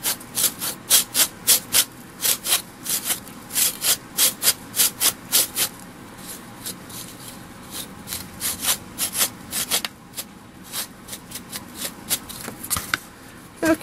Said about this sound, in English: this is like a little metal file. So I'm just rubbing it across.